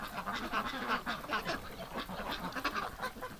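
Ducks and geese on a winter morning rush out together, a steady overlapping chorus of quacks and honks at moderate distance, busy and continuous throughout.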